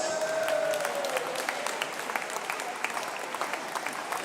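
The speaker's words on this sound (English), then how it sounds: "give them a good clap" Poolside applause at a regional swimming championship as referees and technical officials are welcomed, a steady wash of clapping from a crowd in a reverberant pool hall with a faint tone at the start.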